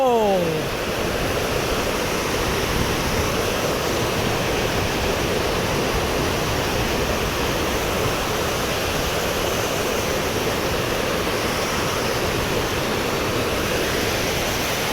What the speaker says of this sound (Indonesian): Deru air terjun.